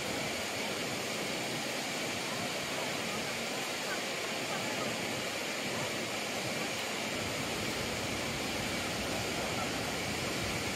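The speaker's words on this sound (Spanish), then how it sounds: "Unas hermosas cascadas de 29 metros de altura que forma la caída del río Trevisat." The 29-metre Kravica waterfalls on the Trebižat river in Bosnia give a steady, dense roar of falling water that holds unchanged from start to finish.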